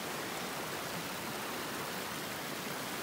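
Small mountain creek in Jasper National Park flowing with a steady, even hiss of rushing water, close and continuous with no talking.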